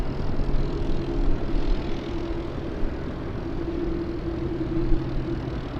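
Airplane noise at Los Angeles International Airport (LAX), a steady broadband engine roar at moderate distance with a faint droning tone, continuous throughout without voices.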